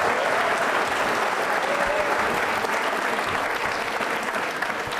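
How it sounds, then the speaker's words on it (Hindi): An audience at an NCC cadets Independence Day quiz show applauds loudly, a dense, continuous clapping that stays strong from start to finish. "तालियां जोरों से बजाइए आप सभी लोग।"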